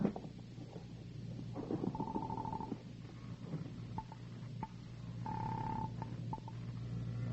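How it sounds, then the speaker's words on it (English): A telephone is picked up and dialed in a radio drama, with short tonal beeps and clicks sounding in separate bursts over a low hum, fairly quiet and with no talk. "I reached for the phone."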